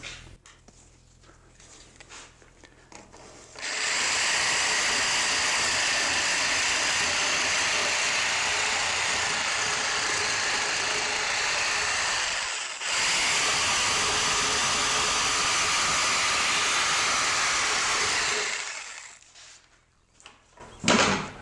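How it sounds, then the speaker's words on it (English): A Sawzall reciprocating saw fitted with a rough blade cuts texture marks into wood, one loud, steady buzzing run of about fifteen seconds with a brief break partway through, after a quiet start. "I've got a Sawzall here and a nasty rough blade on it."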